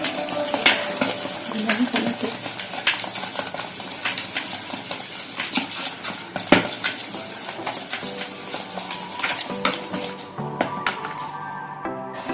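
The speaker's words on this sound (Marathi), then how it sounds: "व्यवस्थित मिक्स करून घ्यायचं।" Marble cake batter, split into saffron and plain white portions, being stirred in a bowl, with soft repeated scraping and light utensil clinks against the bowl, close and fairly quiet.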